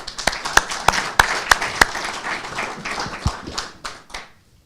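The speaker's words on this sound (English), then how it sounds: "Let's give them another round of applause." A short burst of clapping from a small group, sharp separate claps at first that thin out and fade to silence within a few seconds.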